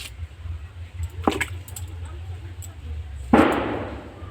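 Cut pieces of raw green banana drop into a bowl of water: a soft plop, then a louder wet splash and slosh near the end, close by, over a low background hum.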